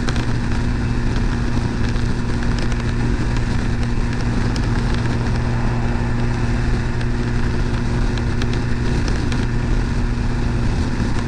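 Vitacci GTO 332cc scooter engine cruising at about 7,200 RPM, a steady, loud drone with strong low hum and wind roar that holds unchanged throughout, no talking.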